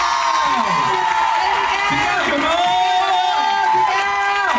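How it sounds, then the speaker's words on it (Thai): Audience at a Thai happy-ending fan party cheers and applauds a woman on stage, a dense steady crowd roar with whoops and clapping mixed under a speaker's amplified voice throughout. "ขอเสียงปรบมือให้ผู้กับคนสวยของเราอย่างกึกก้องนะ"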